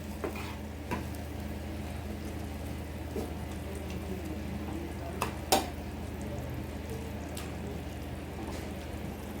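Okra cooks in a pan with salt, sugar and slit green chillies, giving a steady low sizzle with a couple of utensil clinks against the pan as it is stirred.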